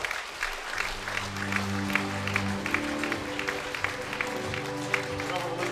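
Audience applause for a singer, steady clapping from a crowd throughout, with a sustained musical chord ringing underneath.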